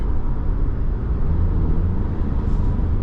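A 2025 Toyota 4Runner SR5 climbs a hill on a mountain road, its engine a steady, loud low rumble blended with road and wind noise, continuous without breaks.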